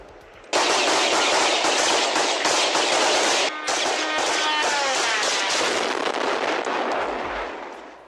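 Rapid bursts of police gunfire aimed at a kamikaze drone over Kyiv, loud and continuous near the camera for several seconds, with a short break and then more sustained shooting that fades toward the end.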